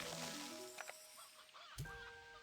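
Chickens in the Slime Rancher 2 video game give a few short clucks and squawks over a layer of game background music, with one louder burst near the end.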